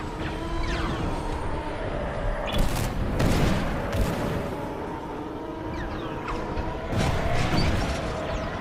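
Enemy blaster fire during a space dogfight in Star Wars Squadrons, a steady roar of engine noise broken by repeated loud bursts of shots, with no voices.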